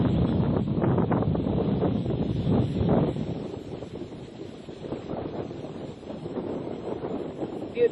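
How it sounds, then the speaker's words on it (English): Strong wind buffets the microphone at Celys Lookout, a steady roaring rush that is loudest in the first three seconds and then eases slightly, with a brief sharp bump at the very end and no talking. "The wind up here is absolutely amazing."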